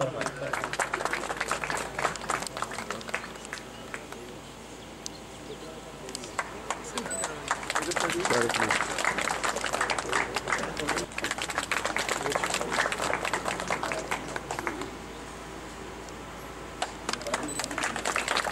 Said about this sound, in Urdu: آپ کے لیے بھرپور تالیاں